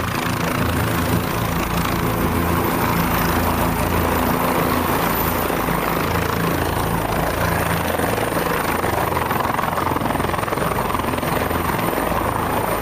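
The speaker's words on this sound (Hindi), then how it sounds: "यही है वो हेलीकॉप्टर जिससे मदुरो को लाया गया" A helicopter roars steadily throughout, its loud, dense rotor and engine noise unbroken and close, filling the whole stretch with constant broadband thrum.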